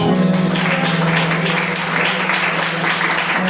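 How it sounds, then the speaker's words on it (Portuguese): A church congregation applauds during an anniversary congress service, a broad wash of clapping over a sustained low organ or keyboard drone, loud and continuous. "Quem quer aplaudir Jesus, irmãos?"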